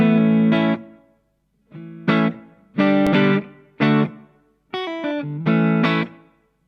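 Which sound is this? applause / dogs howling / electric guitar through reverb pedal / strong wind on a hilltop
electric guitar through reverb pedal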